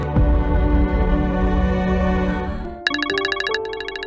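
A phone rings with an incoming call, a steady repeating electronic ringtone entering partway through over a sustained musical background, loud and close with no talking.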